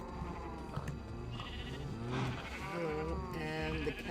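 Sheep bleating in the modded Minecraft game, several wavering, repeated bleats overlapping one another, loud and close, over a steady background hum with no talking.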